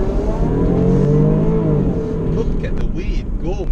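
Supercharged 3.0 V6 of a 2017 Range Rover Sport pulling hard, a loud sustained engine drone with rising harmonics that fades into road roar and wind as the SUV moves off.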